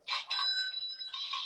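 A single bright metallic ding rings out clearly and holds for about a second before fading, like a register bell.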